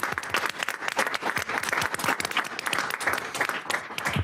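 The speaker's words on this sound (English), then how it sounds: "I'd really like to give everyone here a round of applause for the work that you've done" Attendees at a public hearing give a round of applause, dense crisp clapping that continues steadily for several seconds with no talk over it.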